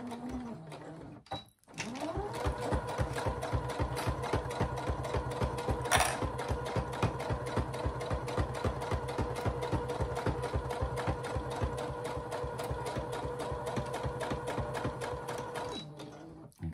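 A sewing machine stitches a double-sided pouch with snap fasteners, running in a fast, steady, even whir of needle strokes for a long stretch after a brief stop near the beginning.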